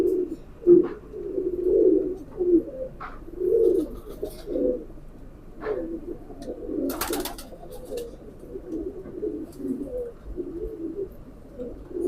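Pigeons coo steadily in a repeated low rolling rhythm close by, with a few brief sharper calls mixed in and no talking.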